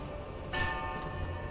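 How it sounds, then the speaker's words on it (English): Bell in Silksong struck by a pogo bounce, one bright ringing hit with a sustained metallic tone over quiet ambient game music, followed by a fainter second shimmer. "One of those pogos interacted with the bell."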